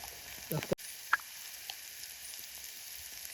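Masala spices tipped into a frying pan of crabs at a night camp, giving a quiet sizzle with a few sharp clinks and taps over a steady faint frying hiss.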